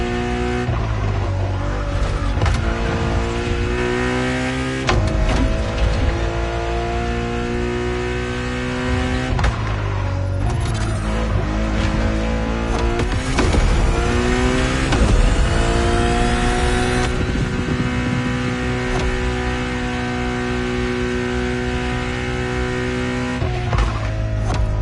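A Ferrari road-legal Formula One car in The Crew Motorfest screams loudly and continuously, its high engine note rising and dropping through repeated revs and gear shifts, with occasional tire noise and no talk.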